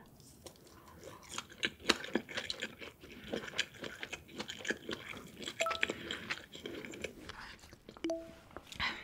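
Gimbap is bitten and chewed close to the mic in a mukbang, giving soft wet crunches and mouth sounds in an irregular rhythm with some quiet breathy noise and no clear speech.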